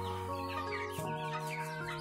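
Six-week-old Yudistira village chickens clucking up close, with a low steady drone underneath and a sharp shift in pitch about halfway through.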